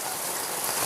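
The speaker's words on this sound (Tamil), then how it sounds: "சரியான மழை வந்துட்டு" Heavy rain pours steadily outdoors in a village, a dense continuous hiss of drops striking surfaces at close range, with no voices over it.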